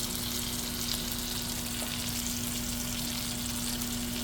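Half a teaspoon of butter melting in a pan for a kale omelet, producing a dense, even sizzle that holds steady throughout alongside a constant low hum, with no speech.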